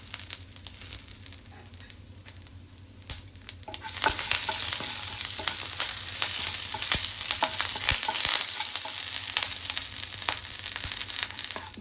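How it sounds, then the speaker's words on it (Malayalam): Mustard seeds, dried red chillies and curry leaves frying in hot oil over a low gas flame for tomato chutney, a quiet sizzle that swells loudly partway through, with scattered crackles and pops from the seeds and no talk. "എണ്ണ ചൂടായിട്ട് നമുക്ക് ഗ്യാസ് സ്ലോ വെച്ചിട്ട് 1/2 സ്പൂണ് കടുക് ഇടാം. 2 വറ്റൽമുളക് ഇടാം."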